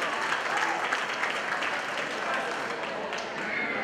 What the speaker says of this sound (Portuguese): E cadê a salva de palmas?